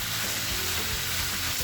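Chicken pieces fry in a pan for a white-sauce pasta, a steady close hiss and crackle of hot oil filling the short stretch without any speech.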